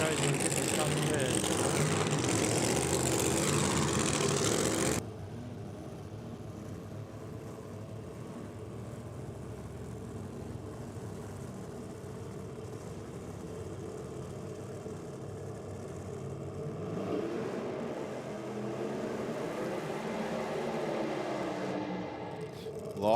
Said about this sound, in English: Started the burnout right on the start line.